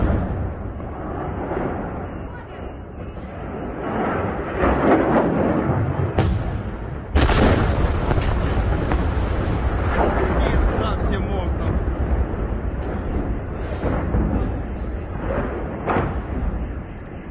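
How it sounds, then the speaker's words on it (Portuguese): Secondary explosions of an ammunition depot after a HIMARS strike, heard as a dense, continuous roar of rumbling blasts and crackling bursts, with a sharp loud burst partway through and sustained noise afterward. "Nessa daqui dá para ver as munições explodindo, né?"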